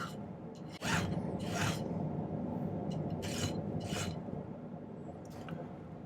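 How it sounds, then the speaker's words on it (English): A metal file rasps one end of a silver piece flat for an octopus pendant, in repeated broadband strokes about a second apart over steady bench noise, close and fairly loud with no talk. "I'm going to file one end flat"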